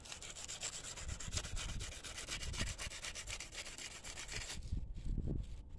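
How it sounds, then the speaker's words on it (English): A Honda small engine's ignition coil is rubbed with sandpaper in quick, rhythmic back-and-forth strokes, close and steady, pausing briefly near the end before a few final rubs. "I'm just gonna take a little bit of sandpaper."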